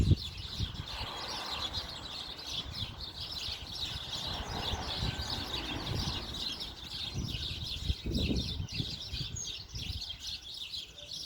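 Birds at a tree nest chirp and tweet continuously as a mother feeds her chicks, a steady busy chorus of small calls over outdoor background noise.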